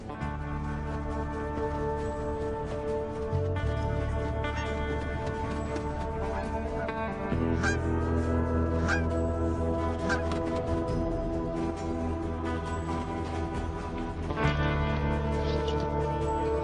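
A Canada goose honks repeatedly in harsh, nasal calls, several loud bursts in uneven succession close by, with no talking.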